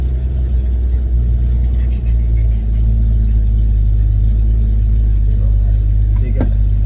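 Ford XB Fairmont engine idling close by with a deep steady rumble, held at a slightly raised idle with mild rises in revs, loud and constant with a brief sharper noise near the end.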